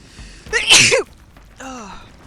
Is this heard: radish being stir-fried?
no